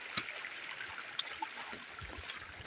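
A mountain stream trickles and gurgles nearby in a continuous faint flow, with a few brief clicks on top and no speech.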